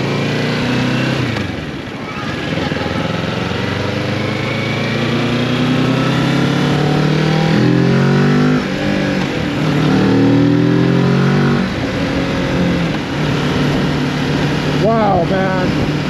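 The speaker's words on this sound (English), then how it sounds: "There's a car behind you." A loud car engine drones throughout, rising and falling as it revs close behind a Kawasaki Z650 motorcycle, with talking mixed in beneath the noise.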